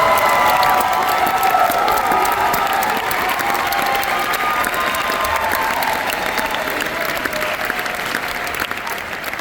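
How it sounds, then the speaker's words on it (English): A concert audience at a Singing Hoosiers spring show applauds and cheers continuously during a seniors recognition segment, a dense, steady wash of clapping that tapers slightly toward the end. "A round of applause for our wonderful tenor."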